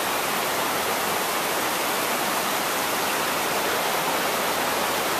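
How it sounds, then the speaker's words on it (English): A creek rushes along the Multnomah Falls trail in Oregon, a steady, loud, unbroken wash of flowing water close by. "Here's the creek."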